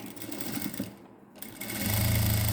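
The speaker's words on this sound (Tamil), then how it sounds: "நான் இன்னொரு தையல் போடுறேன்" A sewing machine stitches a net blouse, its motor whirring at close range, pausing briefly and then resuming with a louder, steady rhythmic hum.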